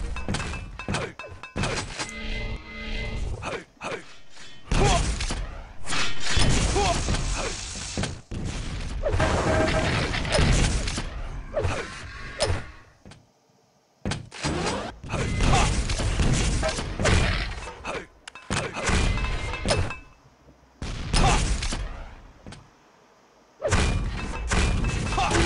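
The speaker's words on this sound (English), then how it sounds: "Oh wow, two grenades in a row." Grenade explosions in a video game: a dense run of heavy booms, thuds and breaking crashes, loud and nearly continuous, with a few brief pauses.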